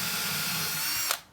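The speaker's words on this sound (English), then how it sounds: "we're going to line these up and then do a pre-drill" A power drill whines at steady high speed, close and moderately loud, while pre-drilling holes for truss screws, then cuts off abruptly at the end.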